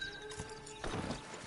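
Hooves of a horse clop on hard ground, a few close, uneven steps with soft, muffled thuds under a faint background hum.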